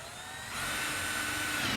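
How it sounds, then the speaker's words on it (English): A power drill pre-drills a pilot hole through the bottom of a bracket for a lag screw going into a wooden post of a garden arbor, a close steady whine that rises in pitch and loudness as it bites. "we're going to pre-drill for our lag screw"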